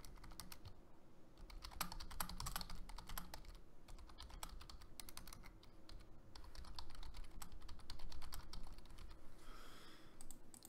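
Someone types on a computer keyboard, quiet rapid clicking in irregular bursts with short pauses, close and soft, with no talking.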